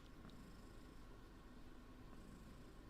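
Soft, steady purring from a house cat, very quiet and continuous with a low rumbling texture, close by and alone in a hushed late-night room.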